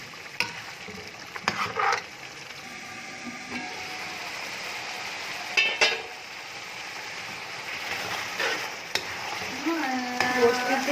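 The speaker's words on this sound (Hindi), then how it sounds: "अब हम इसमें डालेंगे 1 पाव दही, और इसको मज़ीद तकरीबन 5 से 8 मिनट के लिए मुसलसल चम्मच चलाते हुए भूनेंगे।" Chicken with yogurt fries in a pot while a spoon stirs it continuously, giving a steady sizzle under repeated scraping and clinking strokes.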